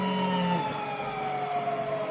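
A fire truck siren in Grand Theft Auto 5 wails with a slowly falling tone over a low engine hum, loud and continuous.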